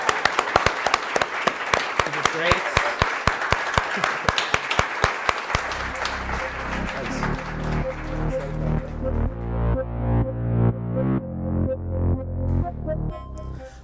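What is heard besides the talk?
audience applause for the speaker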